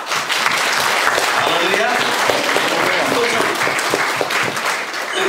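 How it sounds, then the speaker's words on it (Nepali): A church congregation applauds at a Nepali sermon, a dense, loud wash of clapping that fills the whole stretch while voices call out over it. "त हामी किन ताली नबजाउँ फेरि पनि?"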